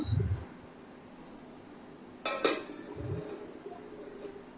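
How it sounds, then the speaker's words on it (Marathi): A pot lid on prawn biryani is lifted, giving two quick metallic clinks in the middle, with faint low bumps before and after against a quiet background hum. "आता मी इथे झाकण उघडते बघते"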